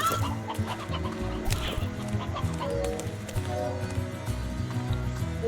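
Chickens cluck repeatedly in the video game Slime Rancher, a steady run of clucks over a looping game soundtrack.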